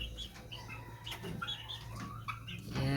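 Several chickens and day-old chicks cluck and chirp softly nearby, short overlapping calls scattered over a low background hum, with no talking.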